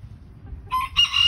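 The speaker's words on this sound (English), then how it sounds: "Oh, and then you got a crow afterwards, of course." A farm rooster crows once near the end, a bright, close call rising out of a low outdoor rumble after a second of near quiet.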